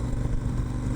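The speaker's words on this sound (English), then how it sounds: "The next accessory, you hear it, is the Akrapovic exhaust system." A KTM 1290 Super Adventure motorcycle fitted with an Akrapovic exhaust runs with a steady, deep, throbbing engine rumble, close and fairly loud throughout the short stretch, with no voices.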